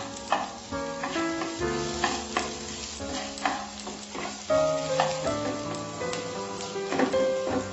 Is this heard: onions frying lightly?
yes